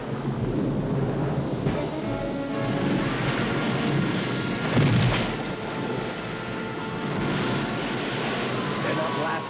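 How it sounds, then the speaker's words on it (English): Thunder in an animated Noah's Ark story rumbles heavily and continuously with a sharper crack midway, loud and close, alongside a steady wash of storm noise and speech. "It's only the thunder."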